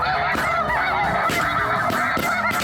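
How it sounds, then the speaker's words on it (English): A big flock of snow geese flies over a Midwest hunting field, honking constantly in a dense, overlapping chorus of loud calls nearby, with no pause through the clip. "Big flock on the left."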